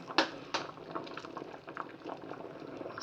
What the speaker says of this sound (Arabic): وحطيتها في شويه ميه، وسبتها تغلي شويه مع رشه ملح